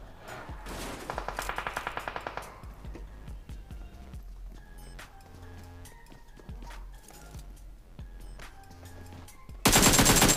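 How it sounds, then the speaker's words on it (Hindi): An M4 rifle fires in the distance in a video game: a rapid burst of shots early on, then scattered clicks and footsteps, and a sudden loud blast of noise at the very end. "थोड़ा दूर से M4 का साउंड आया था"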